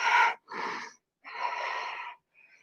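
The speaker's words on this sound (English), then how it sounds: "5 deep, strong breaths" Deep, forceful breaths during a yoga flow, three loud airy exhalations in steady rhythm, close up with no talking, trailing off into a faint hiss.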